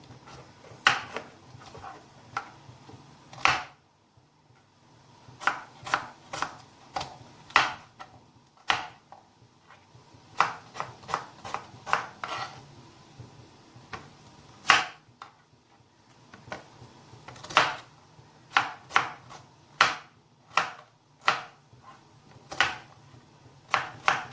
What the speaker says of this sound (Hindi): जो प्याज है वो काट के डालूंगा इसके अंदर।